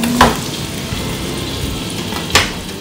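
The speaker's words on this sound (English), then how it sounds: "After the onion is cooked, you put the meat inside." Continuous close sizzle of meat frying with cooked onion in a pan, broken by a couple of brief louder clinks as pieces are added or stirred.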